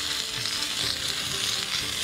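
Chopped potatoes and vegetables for a vegetarian potato goulash hit a hot pot and sizzle, a bright, dense, continuous hiss heard up close, steady throughout with no speech.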